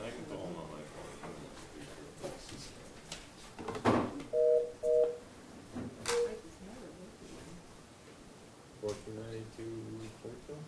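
A phone is dialed during a zoning board of appeals meeting: a few short electronic keypad tones in quick pairs, then another brief run of tones later, heard under ongoing room chatter.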